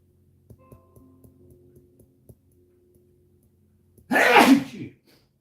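A single loud sneeze bursts out near the end, following a few faint ticks and quiet background hum during a live digital drawing session.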